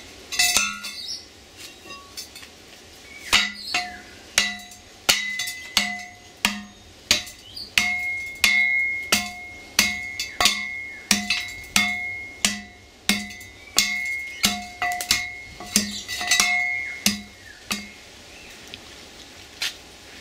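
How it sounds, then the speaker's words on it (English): Gold ore being crushed in a dolly pot: a steady series of sharp metallic clinks, one strike roughly every half second, close and clear with a ringing tone and no talking. "First I crush all the ore in a dolly pot."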